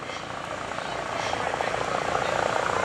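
A Hackensack UMC Eurocopter EC135 medical helicopter at the Greenwood Lake airshow runs its engine down, a close, steady turbine whine with rotor throb that grows slightly louder, with voices mixed underneath.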